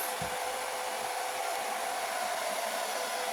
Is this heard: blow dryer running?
yes